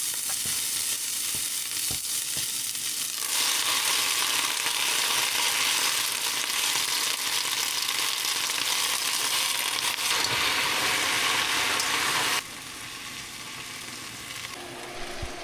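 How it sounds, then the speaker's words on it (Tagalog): Garlic and onion hit a hot wok-style pan and sizzle loudly, a steady bright hiss that intensifies partway through, with occasional scrapes and clinks of a utensil, no voices. "Sabay na natin itong bawang sibuyas. Mainit yung aking kawali."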